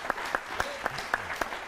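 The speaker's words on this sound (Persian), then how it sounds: "مهمونمون رو تشویق کنیم به خاطر این پیشنهاد" On a Persian talk show, people clap for a guest. The short, close, evenly spaced burst of sharp hand claps is steady and rhythmic, with no voices over it.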